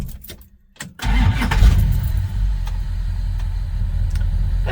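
A 1964 Plymouth Fury's engine cranks briefly after a near-silent pause, then catches and settles into a steady, loud idle with a deep low rumble, close by.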